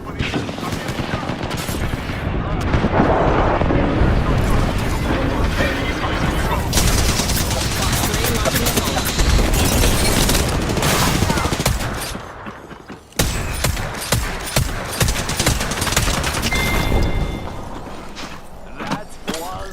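Rapid video game gunfire bursts in a dense, loud, continuous barrage, rattling for most of the stretch with a brief drop near the end before resuming.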